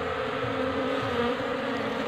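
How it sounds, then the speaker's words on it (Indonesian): Drone bees in a bee colony, a dense continuous buzzing hum close by, steady and unbroken for the whole moment with no voices. "Ternyata ini lebah drone"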